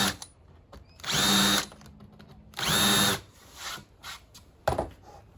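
A power drill countersinks holes in a wooden tradie's toolbox, two loud sustained whirring bursts of about half a second each with a shorter third burst, close up and alone.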